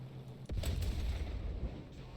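Heavy cannon shot from the smaller secondary gun of a Maus tank in War Thunder: one sharp, loud boom with a short crack, then a booming rumble that slowly fades.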